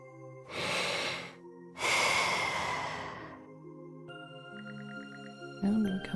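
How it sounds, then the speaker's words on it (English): Slow, steady breaths from a sleeping character in the video game Ys X, two long airy exhales over soft game music, with a faint chime near the end. "Sound of Carja's steady breathing fills the air."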